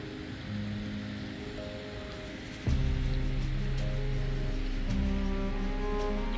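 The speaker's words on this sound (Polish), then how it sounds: "te natryski są takie, że naciśniesz, woda leci" Water gushes steadily from a push-button beach shower on the Baltic coast at Świnoujście, a broad hiss that jumps noticeably louder partway through and keeps running with a low rumble underneath.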